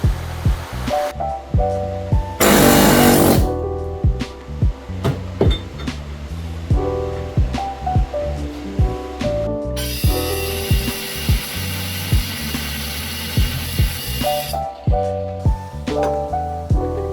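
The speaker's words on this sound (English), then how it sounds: "we're gonna try our air hammer, see if we can get that to break the rest of the way." An air hammer chatters in rapid bursts against a Jeep JK axle bearing retainer ring, with loud metallic rattling, sharp impacts and long sustained hammering stretches in a workshop.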